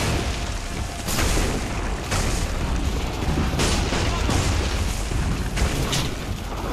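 Gunfire hits the player in Assassin's Creed 3 Remastered, with several loud booming shots bursting out over a dense, noisy battle background.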